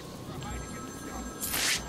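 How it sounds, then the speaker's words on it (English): A phone rings in the Batman: Arkham City video game, a brief bright ringing burst near the end over game ambience, with someone talking through the clip. "I hear a phone."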